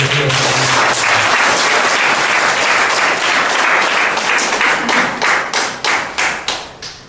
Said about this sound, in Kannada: ನಾವೆಲ್ಲ ಒಂದು ದೊಡ್ಡ ಚಪ್ಪಾಳೆ